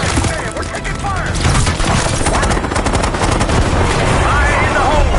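Heavy gunfire in the video game Call of Duty Black Ops 6, a dense, loud, unbroken barrage of automatic shots with explosions mixed in, under shouted voices.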